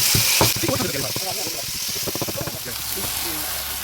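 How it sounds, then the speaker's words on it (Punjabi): Hot oil sizzles and crackles steadily in the background as a tempering is made for broccoli saag, while someone talks over it. "ਮੈਨੂੰ ਲਾਣਾ ਪੈਂਦਾ ਤੜਕਾ"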